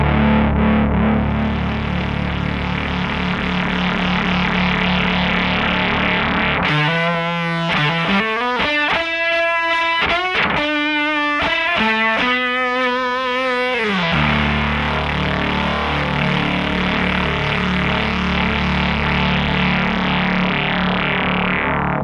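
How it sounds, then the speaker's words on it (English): Synthesizer run through an analog wavefolder distortion processor, a sustained tone that for about seven seconds turns into a harsh, liquid, folding sweep of shifting harmonics before settling back into the steady buzzy drone. "Wavefolding is a complex liquidy sound that distorts your input signal by inverting and folding the peaks."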